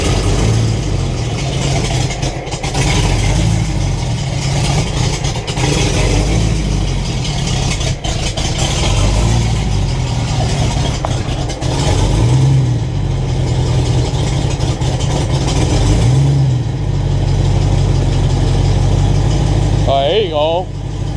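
A Foxbody Mustang engine idling while warming up, a steady loud low rumble with slight periodic surges, heard close throughout with a brief voice near the end.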